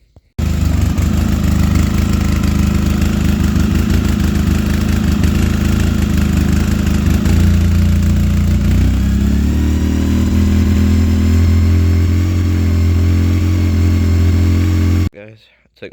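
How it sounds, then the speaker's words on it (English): A 2008 Polaris RZR 800 with a rough idle and frequent backfiring runs loud and close, its engine chugging unevenly before being revved, then cutting off abruptly near the end. "now it's not idling right. It's idling really rough, and it's backfiring a lot"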